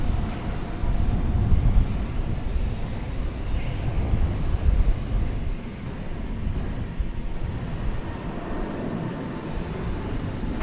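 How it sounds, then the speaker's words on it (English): A Delta jet airliner comes in to land at DFW airport at night, a loud, steady broadband roar of engines and rushing air that fills the whole stretch with only slight swells in level. "Got a Delta jet coming in,"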